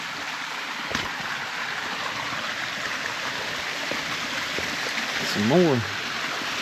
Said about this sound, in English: I knew I heard a big old rapid